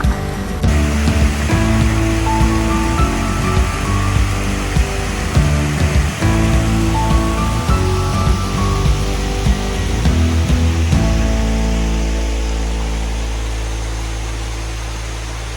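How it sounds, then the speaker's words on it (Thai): A waterfall pours down its first tier in northern Thailand, giving a steady, close, broadband rush of falling water that holds constant throughout with no voices. "คนดูสิน้ำตกไหลลงมา สวยมากเลยอะ"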